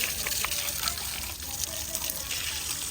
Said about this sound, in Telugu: ఈ వాటర్ కొడుతున్నానా అక్కడి నుంచి ఇక్కడ వరకు